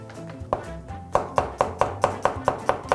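Whole garlic cloves pounded on a cutting board in a kitchen, about a dozen crisp, close knocks that settle into a steady, quick rhythm.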